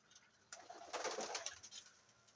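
Pigeons coo softly at a loft housing young birds, low murmuring calls swelling briefly in the middle of the stretch, faint and close, with no one talking.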